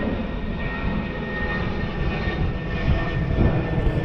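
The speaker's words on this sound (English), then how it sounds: "Here comes another plane." An airplane passes high overhead in Louisville, Kentucky, a steady broadband engine roar with a faint whine that holds constant and swells slightly toward the end, with no talking.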